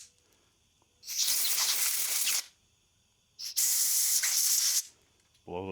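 Compressed air from an air compressor nozzle blasts through the parts of a Coleman 200 lantern in two strong hissing bursts, each about a second long with a short quiet gap between them.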